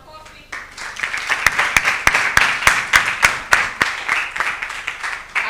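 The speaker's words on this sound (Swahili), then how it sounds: "Pigeni makofi." A church congregation at a Lutheran youth fellowship service claps hands together in a steady, rhythmic beat, with sharp, evenly spaced claps rising over a busy room.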